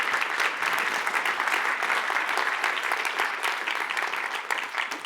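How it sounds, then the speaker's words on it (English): A large university audience claps steadily and densely throughout, a sustained wash of many hands at even loudness with no break. "So can we please clap?"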